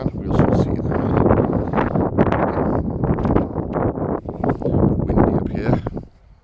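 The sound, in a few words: wind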